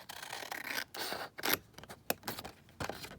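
Scissors cut a paper postcard piece in a run of close, crisp snips and slicing strokes, several separate cuts with short pauses between them and no speech.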